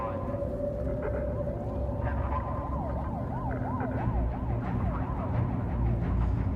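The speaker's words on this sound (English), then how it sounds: "Police sirens in the background, blurred." Police sirens wail in the background of a snowy city scene, with repeated rising and falling tones under a dense, steady low rumble of city noise.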